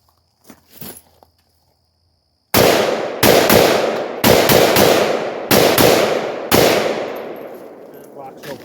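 A Yugo SKS rifle fires single shots: five loud, sharp cracks spaced about a second apart, each with a short decaying echo, after a few faint handling clicks and a near-silent pause.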